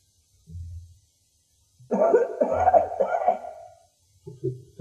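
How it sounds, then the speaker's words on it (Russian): Coughing in the video game Skyrim Dawnguard, a short low cough followed by a longer raspy burst of hacking, then another brief cough, close and fairly loud. "Ты так кашляешь?"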